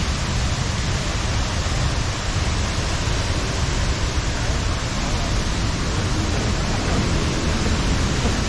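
Arwake waterfall in Goa, near Bicholim and Sanquelim, makes a steady, loud, dense rush of falling water that fills the scene without a break.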